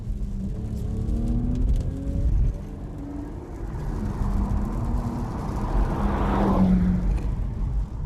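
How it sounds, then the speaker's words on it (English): A BMW 130i hatchback's six-cylinder engine revs while the car is driven, a steady mid-level drone that rises in pitch toward the end, with no voices. "that 6-cylinder engine makes an absolutely fantastic noise when it throbs into life"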